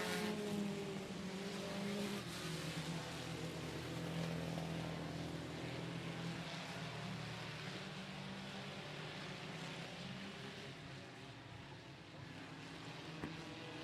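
Race cars roar around the oval at 105 Speedway during a regular race night, a dense, continuous engine drone with layered pitches from several cars, loud and steady throughout.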